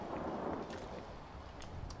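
Low rumbling thunder of a radiation storm in Fallout 4, a steady broadband roll with rain-like hiss and faint higher crackles running the whole time, without voices.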